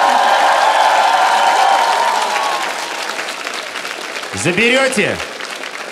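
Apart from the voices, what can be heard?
studio audience applause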